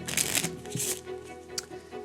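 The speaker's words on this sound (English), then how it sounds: "I'm going to shuffle up the deck." A deck of playing cards being shuffled by a magician, bursts of crisp riffling and flutter close by, two main shuffles followed by softer handling, with no voices.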